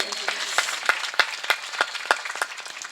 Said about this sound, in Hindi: भैया के लिए एक बार जोरदार ताली बजा दीजिए।